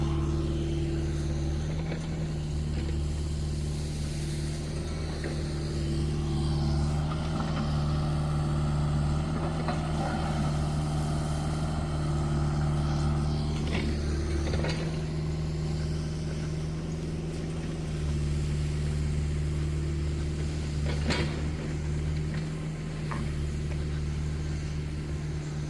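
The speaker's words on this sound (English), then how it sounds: "He's gonna reclaim some of this gravel off the bank right there where the other loader can scoop it up and get to it." Loader reclaiming gravel off a bank at a washout repair site, its diesel engine droning in a steady, continuous rumble with faint clanks and scrapes rising now and then, and no talk over it.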